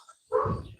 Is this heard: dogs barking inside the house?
yes